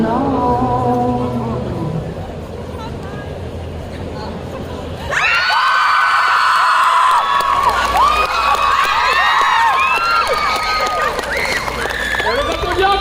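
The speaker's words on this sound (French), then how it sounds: "On les applaudit encore." Audience at a cosplay parade during a geek festival in Bordeaux cheers, whoops and applauds loudly, a sudden burst of crowd noise following a stretch of background voices and music.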